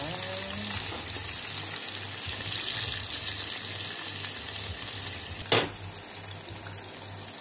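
Fish fries in a pan with a steady close-up sizzling hiss, a brief sharp clatter or spatter partway through, then the crackle carries on evenly.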